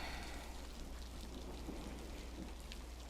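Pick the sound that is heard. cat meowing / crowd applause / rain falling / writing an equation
rain falling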